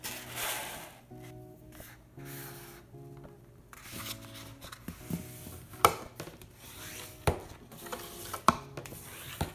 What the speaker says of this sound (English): Fold the cover in half.